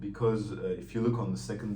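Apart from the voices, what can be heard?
No everyday noises stand out.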